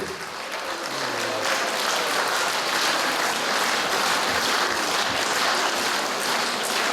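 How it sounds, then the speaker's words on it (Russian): An audience claps steadily in a hall to honour a man turning 90, a dense, sustained round of applause lasting several seconds with no speech over it. "Давайте поздравим, похлопаем ему, в этом году 90 лет"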